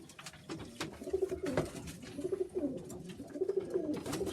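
A Sheffield Tippler cock pigeon coos softly in repeated low rolling phrases, close by in a quiet loft with faint rustling.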